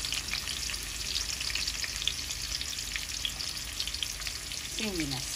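Onion and prawns frying in hot oil, a dense, even sizzle and crackle that holds steady throughout, fairly close, ending with a brief tonal squeak near the close and no one speaking.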